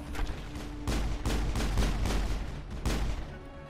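Heavy gunfire from the Mass Effect video game, with repeated dense bursts of booming shots in quick succession, loud and close, with no talking.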